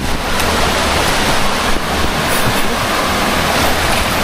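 Hawili Falls waterfall roaring as a steady, loud, unbroken wash of broadband water noise that fills the whole stretch, with no pauses and no talk over it.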